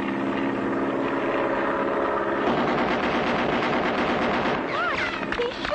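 Machine gun fire from an aircraft in the Clutch Cargo cartoon about bush pilots: a dense, rapid rattle over a droning engine, loud and continuous, with a rising whistling tone near the end.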